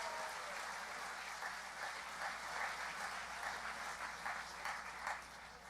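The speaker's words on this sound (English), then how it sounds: "Give yourself a great round of applause" Steady applause from a large crowd at a graduation ceremony, continuous clapping that fills the space at an even level throughout.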